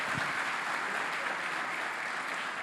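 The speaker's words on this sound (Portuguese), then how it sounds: "vamos aplaudir a Jesus" Church congregation applauding during a conference service, a steady wash of clapping heard from a moderate distance at low level, continuous and even throughout with no talk on top.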